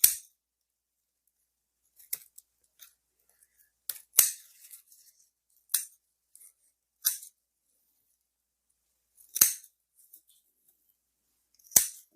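Scissors snip young, tender kudzu shoots in a series of sharp, separate cuts spaced a second or two apart, close and crisp against near silence.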